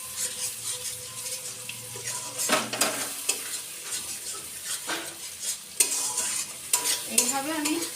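Cashew, raisin and poppy seed paste being stirred continuously in a pan for a paneer dish, with soft repeated scraping and light sizzling in a steady, close rhythm and brief sharper clatters of the spoon.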